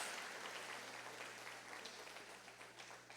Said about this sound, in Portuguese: você pode dar uma grande salva de palmas ao Senhor?